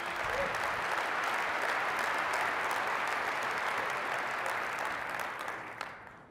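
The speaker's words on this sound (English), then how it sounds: "Give him a big round of applause" Sustained audience applause fills a large keynote hall at a tech conference, dense steady clapping throughout that thins slightly near the end.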